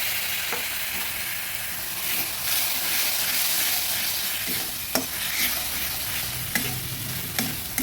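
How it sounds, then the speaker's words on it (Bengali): Spice paste thinned with a little water and stirred in a frying pan for puti fish gamakha with onion shoots: a loud, busy sizzle with scraping stirs and occasional sharp clicks of the spatula against the pan. "মশলাটা সুন্দর করে মিশিয়ে নিচ্ছি হালকা একটু জল দিয়ে ভালোভাবে মিশিয়ে নিয়েছি"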